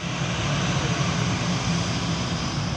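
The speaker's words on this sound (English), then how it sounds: "So we'll watch that take off now. So that's Brussels Airlines" A Brussels Airlines passenger jet takes off at Manchester airport, heard as a steady, broadband engine roar at a distance, constant and unbroken throughout.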